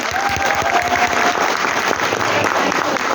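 An audience at a youth poetry contest claps steadily and densely, a sustained wash of applause held at an even, fairly loud level throughout.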